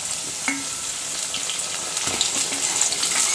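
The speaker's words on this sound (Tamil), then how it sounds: "தக்காளி சேர்த்து கொஞ்சம் நேரம் நல்லா வதங்கட்டும்." Tomatoes sauté in an oily pan for brinjal kara kuzhambu, a steady, close frying hiss with light stirring clicks running underneath.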